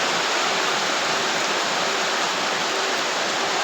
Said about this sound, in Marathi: पाऊस बघा कसला मोठा येत आहे.